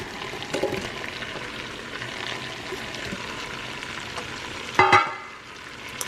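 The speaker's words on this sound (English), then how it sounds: "Time to put the Brussels sprouts in here." Brussels sprouts hit melted butter and bacon in an Instant Pot on saute, giving a continuous moderate sizzle with soft crackles and a louder clatter near the end.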